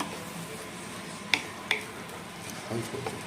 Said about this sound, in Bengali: খুব সামান্য পরিমাণে জল দিয়ে নেব, মশলাগুলো জ্বলে না যায়